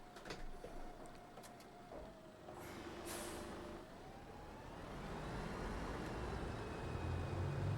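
A 1988 MAN SD85 bus in the OMSI 2 driving simulator shifting into gear, a faint mechanical clunk followed by a steady diesel idle that swells gradually, with a soft hiss of air.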